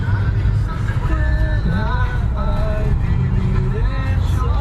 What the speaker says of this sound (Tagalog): Nagsistart na mag-build up yung traffic guys.